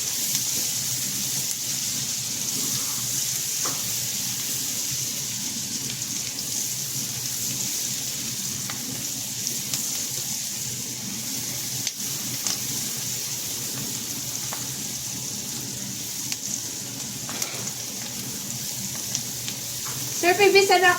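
Garlic frying in hot oil in a pan, giving off a steady, close hiss and crackle that continues throughout, with faint bursts of talk and a louder stir or clatter near the end.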